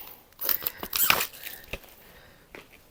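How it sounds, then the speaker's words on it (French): A vinyl record package being unwrapped up close, with faint crinkling of plastic, a few tearing snips and small clicks of handling, quiet and brief. "on va essayer de se déballer ça proprement, sans tout casser"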